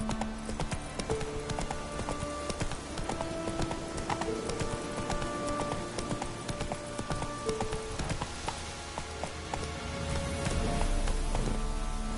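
Hoofbeats of Geralt's horse Roach in The Witcher 3: a steady clip-clop of hooves on the ground, continuous for several seconds under ambient music and an outdoor backdrop.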